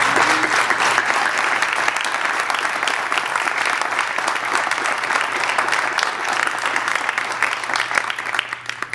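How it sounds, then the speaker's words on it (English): Loud, continuous audience applause at a hospital event celebrating a charity partnership, dense clapping carrying steadily from start to finish. "So please give me a round of applause for Kendall."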